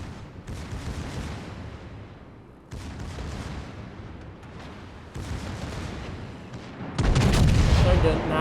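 Battleship Tirpitz's secondary guns in World of Warships fire in repeated rolling bursts, heavy booming volleys separated by brief lulls, with a louder, denser barrage near the end.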